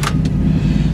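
A 1996 Dodge Ram 1500 4x4 rock crawler engine rumbles low and steady right after starting, a short, close, deep idle with no voices.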